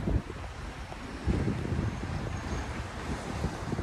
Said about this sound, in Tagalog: Ang hangin sa labas, mahangin talaga sa labas.